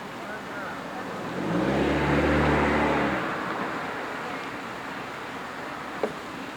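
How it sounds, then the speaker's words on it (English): A car approaches and passes close by outdoors, its engine and tire rumble swelling to a peak then fading into steady background noise, ending with a brief faint click. "There's a car coming."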